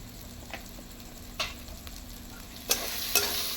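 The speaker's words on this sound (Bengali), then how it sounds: "এখন আমি নাড়বো, ভালোভাবে রান্না করে নেবো এটাকে" Food being stirred while it fries in a pan with salt and turmeric, for a raw mango paratha dish: a soft steady sizzle with a few sharp scraping clinks of the spatula, close and fairly quiet.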